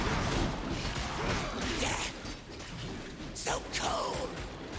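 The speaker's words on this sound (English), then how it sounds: "Oh, I can open this door from this side." Door mechanism in Darksiders Genesis grinding open with a rumbling, clanking churn, followed by a couple of sharp rising swishes near the end, heard up close.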